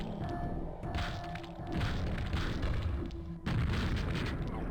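Grenade explosions in a combat video game, a run of deep booms and thuds with crackling bursts layered close together, loud and dense throughout.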